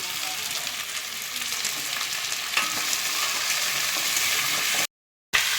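Steady, loud sizzling of onion stalks frying in a hot pan, a constant hiss with a brief cut near the end.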